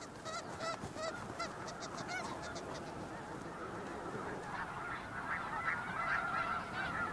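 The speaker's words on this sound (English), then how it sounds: "The snow geese have arrived to breed." A large flock of snow geese honks continuously at a breeding ground, many overlapping nasal calls at a moderate distance forming a busy, chattering chorus.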